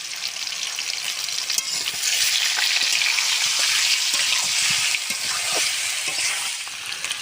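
Potatoes fry with salt and turmeric in a pan, giving a loud, dense, continuous sizzle of hot oil with occasional light stirring clicks, close up and with no talk.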